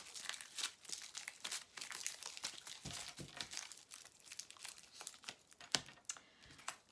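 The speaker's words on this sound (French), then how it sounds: "Alors, on va prendre d'autres cartes." Tarot cards are drawn and handled, making soft, quiet, irregular rustles, flicks and crinkles close by with no talking.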